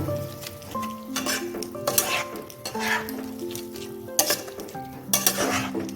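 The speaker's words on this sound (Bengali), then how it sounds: "এরপর আমি সমস্ত জিনিসটাকে একটুক্ষণ কষে নেব" Spinach ghonto with ginger-green chili paste is stir-fried in a pan, a crackling sizzle broken by repeated clinks and scrapes of a metal spatula against the pan, close and busy.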